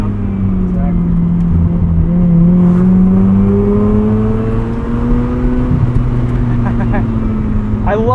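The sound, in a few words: 1990 Mazda RX-7 rotary engine revving to redline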